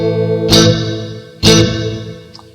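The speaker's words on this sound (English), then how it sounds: "the church reverb" A sustained guitar chord played through a Reverberry effects pedal on its church reverb setting rings out with a long, washing decay. Two strummed hits, each trailing off smoothly, with no one talking.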